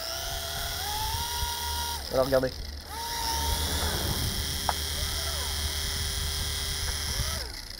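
A Silverlit toy helicopter's rotor spins with a steady, thin electric whine close by, briefly interrupted while someone speaks in French over it.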